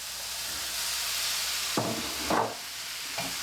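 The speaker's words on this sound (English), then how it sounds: "Now I'm getting my beef back in, all this beef." Beef added back into a hot pan for a steak and Guinness pie, a steady close sizzle and hiss with a few louder bursts as the meat hits the pan.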